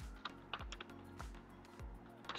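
Someone typing Java code on a computer keyboard, a quick, uneven run of close, crisp key clacks heard alone.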